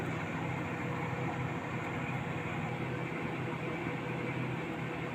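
A microwave oven runs, baking a chocolate sponge cake on a turning tray inside, giving off a steady, low, even hum with a faint whirr, constant and unbroken.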